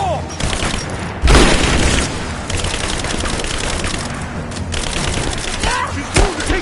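Tomb Raider gameplay gunfire: rapid bursts of shots and a heavy boom near the start, with crackling weapon fire continuing over game voices and noise.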